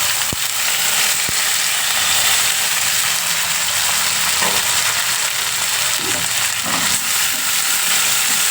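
Onions, green chillies and field beans fry in oil in a pan for vegetable upma, giving a steady, loud, close sizzle with occasional stirring scrapes and a couple of sharp clinks, and no talking.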